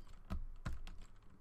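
Typing on a computer keyboard at a desk produces a few quiet, separate key clicks at an uneven pace, with no talk.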